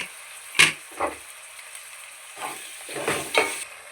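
Tomatoes dropped into a pan of ginger garlic paste for a chicken gravy curry, with a few sharp splattering bursts and stirring clatters over a low steady sizzle.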